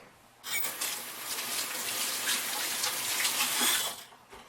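A tap gushes steadily into a sink for about four seconds while hands are washed, close and bright, then shuts off.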